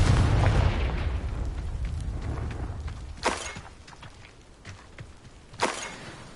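A Confringo fire spell cast in Hogwarts Legacy bursts with a loud boom over a rumbling low-end din, followed by two sharper blasts later on, each brief and punchy against a steady background roar.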